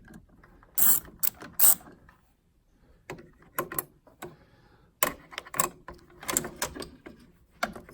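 Long screws being turned out of a Whirlpool refrigerator condenser motor with a ratcheting tool: sharp clusters of ratchet clicks, close and loud, separated by brief quiet pauses.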